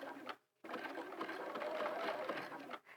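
A sewing machine does zigzag stitching on a hat. The motor whirs in a close, moderately quiet run, broken by a brief pause near the start and tapering off at the end.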